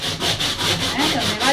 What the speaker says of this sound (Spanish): Donde va derecho, puedo lijar derecho.